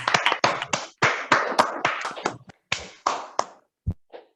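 At a Bangalore Toastmasters club meeting, a small audience welcomes guests with a short burst of close, crisp hand claps that thins to a few scattered final claps.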